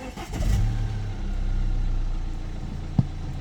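A BMW engine turns over and catches, settling into a steady medium idle nearby, with a brief click near the end.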